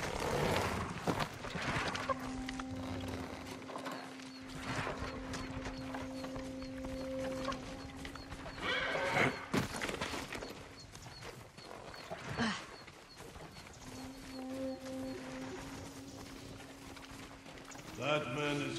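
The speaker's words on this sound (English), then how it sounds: "Follow those horses." Horses gallop in the video game Ghost of Tsushima, with hoofbeats in a rolling clip-clop under steady background music and occasional louder impacts, continuing through the whole stretch.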